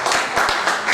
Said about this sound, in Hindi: सरिता जैन के लिए एक बार जोरदार तालियों